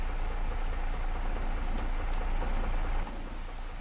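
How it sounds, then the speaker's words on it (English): Rain in the video game Farming Simulator 25, a loud, dense, continuous downpour hiss with a low rumble beneath and a few faint clicks, dropping slightly in level near the end. "which makes sense because it's raining."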